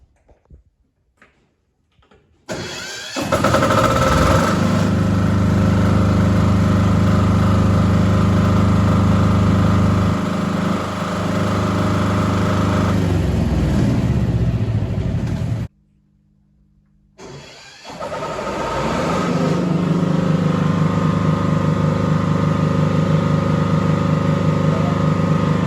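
Hyundai diesel generator engine runs at a steady, loud drone, cutting out abruptly partway through, then restarting and settling back into its constant hum.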